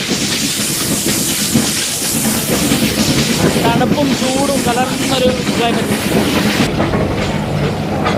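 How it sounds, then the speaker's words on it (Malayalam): The Nilgiri mountain train between Mettupalayam and Ooty rumbles and hisses as it slows, a loud, continuous rolling noise with a voice talking over it. "ട്രെയിനിൻ്റെ സ്പീഡ് കുറഞ്ഞു വരുന്നുണ്ട്."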